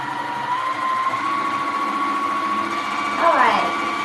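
A sewing machine runs steadily while quilting on a Hoop Frame Pro frame, giving a constant motor hum with a slight rise near the end; no one speaks over it.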